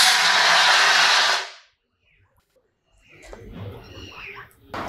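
A marine fire extinguisher discharges after its valve is opened: a loud, steady broadband hiss for about a second and a half, then it cuts off abruptly, followed by silence and later muffled handling noise and clatter.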